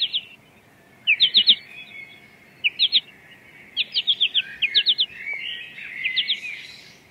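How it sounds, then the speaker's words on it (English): Goldfinch song near a bird feeder on a morning: bright twittering phrases in short bursts of three to five quick notes, repeated several times with brief pauses, clear and close over a quiet background. "It's a goldfinch."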